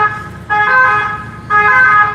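A siren wails outdoors in the background, rising in two swells about a second apart, steady and fairly loud, with no talking over it.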